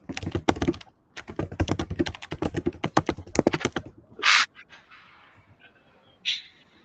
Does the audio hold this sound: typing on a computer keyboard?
yes